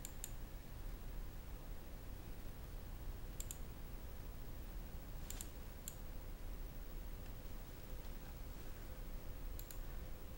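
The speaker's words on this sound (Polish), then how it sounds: "wpisujemy tutaj nazwę" Faint, sparse clicks of computer keyboard keys being typed during a Windows 8 installation, scattered in short bursts over a quiet, hissy room background with no talking.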